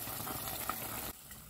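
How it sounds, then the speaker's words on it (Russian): Pepper pieces simmer in boiling marinade for a winter preserve, a close, continuous bubbling hiss that drops abruptly to a quieter simmer near the end. "Теперь нужно дождаться закипания маринада, сделать небольшой огонь и проварить перец"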